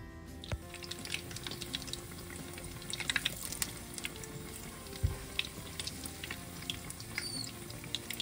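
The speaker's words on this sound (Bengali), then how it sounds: "এই দেখুন বেশ কিছু বেগুনি আমি ভাজতে দিয়ে দিয়েছি।" Eggplant slices dipped in gram flour batter deep-fry in oil, giving a steady low crackle and patter with scattered pops throughout, fairly faint and with no talking.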